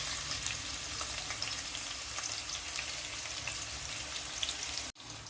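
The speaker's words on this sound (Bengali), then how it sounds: "তেল গরম হয়েছে, দিয়ে দিব পেঁয়াজ কুচি," Chopped onion dropped into hot oil for a magur fish curry, giving a steady, close, bright sizzle that holds throughout with a brief cut near the end.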